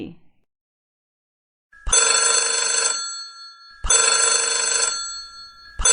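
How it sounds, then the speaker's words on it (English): A telephone bell rings loudly in two long bursts after a brief silence, with a third ring just starting at the end. "Ring, ring. It's the phone."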